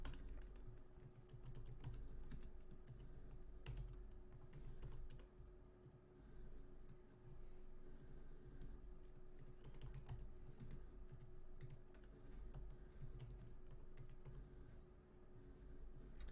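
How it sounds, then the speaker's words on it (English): Continuous typing on a computer keyboard of a Mac, a fast dense patter of soft key clicks running throughout over a faint background hum, with no talk. "I guess I'll just type it out each time"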